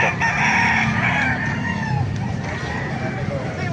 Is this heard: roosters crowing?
yes